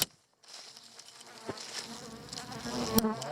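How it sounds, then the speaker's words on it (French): A honeybee buzzes loudly and close to the camera, its drone wavering and rising as it flits near, with a couple of sharp taps. "Une abeille qui s'excite sur la caméra"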